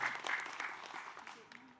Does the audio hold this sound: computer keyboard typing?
no